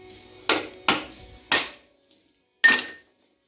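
Hammer strikes knocking a weld off a metal part on a $500 Polaris Lakota ATV: four sharp metallic whacks, three in quick succession and a fourth after a pause, each ringing briefly, close and loud with no talk.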